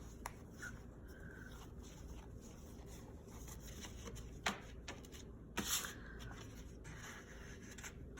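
Old paper report cards from the 1950s and 60s being handled and tucked into an envelope, with soft, close rustling and shuffling of paper and a couple of sharper crinkles near the middle.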